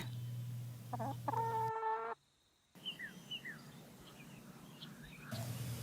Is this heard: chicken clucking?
yes